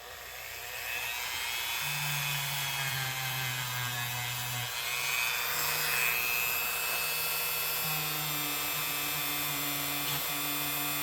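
Steady, continuous abrasive rubbing on the bolster of an old knife with a soft abrasive, a constant rough hiss with a faint motor-like drone, no voices.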